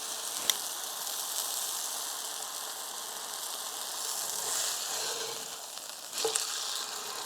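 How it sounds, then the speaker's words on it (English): Meat sizzles steadily in a pan or over a fire at an island log cabin build, a continuous broadband frying hiss with a few brief louder pops and crackles, fairly close and alone without talk. "it seems like it's actually cooking now"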